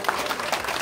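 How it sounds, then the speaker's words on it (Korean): A fan meeting crowd claps together in a short, dense burst of applause, moderately loud and close. "내 말이 마지막 박수로 한번 치자."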